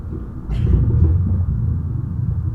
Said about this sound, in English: you can hear the grumbling of the soil.